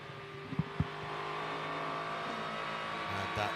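Race cars at the IMSA Chevrolet Grand Prix at Canadian Tire Motorsport Park pass behind a wall, a muffled, distant engine roar building and fading beneath a steady broad rush of track noise, with a couple of brief thumps early on.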